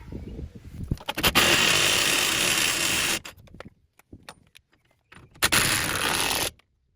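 A reciprocating saw cuts into the rear leaf spring of a 2006 Ford Transit MK7, two loud sustained bursts of buzzing cutting separated by a pause filled with clinks and handling noises.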